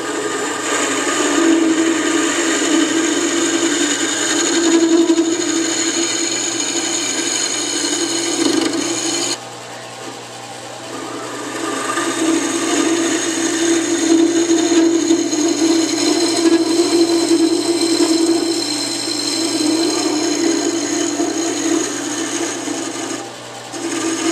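A round carbide cutter scrapes against a spinning segmented wooden vase on a lathe, a continuous raspy hiss over the steady motor hum, briefly easing off midway before the cut resumes.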